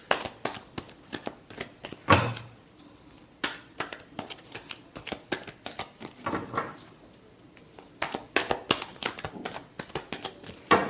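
Tarot cards being shuffled by hand in quick rustling bursts with sharp riffling snaps and taps, close and fairly quiet, with no talk.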